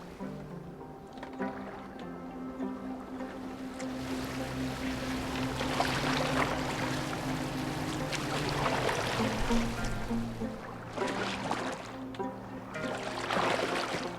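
Boat gliding across water in Assassin's Creed Valhalla, a steady wash of hull and waves with a low droning hum running throughout, fairly loud and continuous with no talk.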